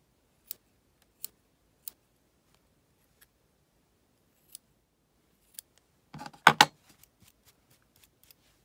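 Scissors snip fun fur yarn trimmed from around the face of a crocheted bunny: a few sharp, isolated clicks spaced about a second apart, then a quick burst of louder close snips, with no talking.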